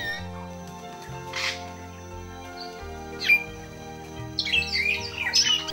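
Grey parrots released from an aviary into an African national park give a few scattered chirps and calls, mostly brief and moderately distant, with a louder cluster near the end over a steady background hum.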